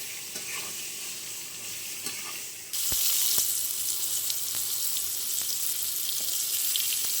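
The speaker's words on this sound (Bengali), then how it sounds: "নুন আর হলুদ দিয়ে ভালো করে ভেজে নেবো পটলটা।" Pointed gourd fries in oil with salt and turmeric: a soft, quiet sizzle jumps abruptly to a louder, bright crackling that holds steady, with occasional stirring clicks.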